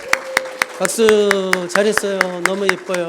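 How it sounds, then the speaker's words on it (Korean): A church congregation claps in a brisk, regular rhythm for children at a Sunday service, the sharp claps running under someone speaking warmly in Korean. "우리 돌아갈 동안 우리 계속 아이들에게 박수"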